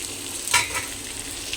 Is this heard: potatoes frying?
yes